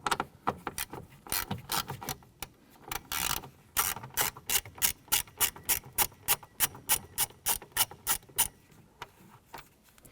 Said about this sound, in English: use a 7mm socket. We're going to go ahead and remove the 3 screws across the top of the black gauge bezel here